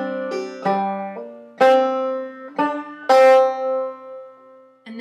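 A clawhammer banjo plays the tune Cluck Old Hen slowly, a handful of bright plucked notes and brushed strums with pauses between them, close and clear with no talking.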